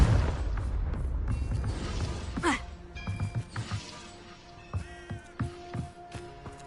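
In Hogwarts Legacy, a Confringo spell goes off with a booming blast and crackling debris. Sharp magical zaps and chimes follow, and a few smaller impacts ring out over the game's background sound.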